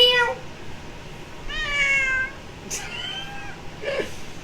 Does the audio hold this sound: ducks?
no